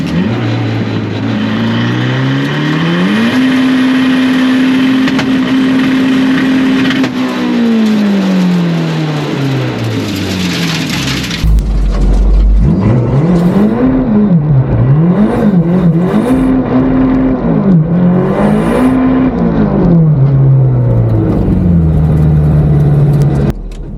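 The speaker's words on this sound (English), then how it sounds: "I did a little celebratory rolling burnout to the turnaround area" A hillclimb race car does a rolling burnout, its engine revving loudly and rising and falling in pitch, then bursting into harsher, louder revs with shrill tyre squeal, close and continuous.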